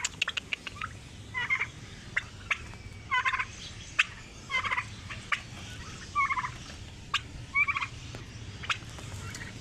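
A sick turkey gobbles in repeated short, rattling bursts, about six or seven of them, spaced a second or so apart and clearly audible over a faint background hum.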